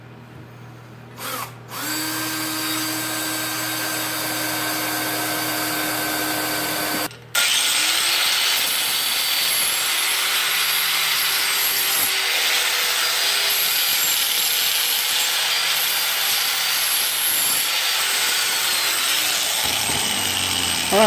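A step drill bores holes sized for a 1/2 inch axle, whining steadily for about five seconds, pausing briefly, then cutting again in a loud, continuous grinding run with slight pitch dips as pressure changes.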